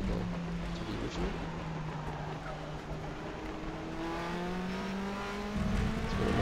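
Nissan GTR Super GT500 race car in a racing video game at Suzuka Circuit, the engine droning and sweeping steadily upward through the gears at moderate distance, with a brief tire squeal and no voices.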